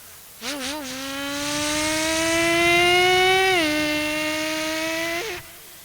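A human voice imitating a motorbike engine during a mimicry performance, a loud steady droning rev that starts with a sputter, rises slowly in pitch, then drops and fades out.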